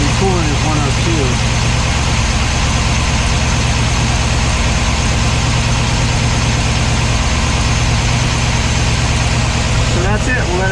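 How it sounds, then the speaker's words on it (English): A car engine idles steadily and loudly throughout, a low continuous hum with a faint voice speaking near the end, after a power steering pump temperature sending unit install. "let me let this idle a little bit"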